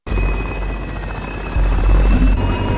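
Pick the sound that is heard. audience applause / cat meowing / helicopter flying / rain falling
helicopter flying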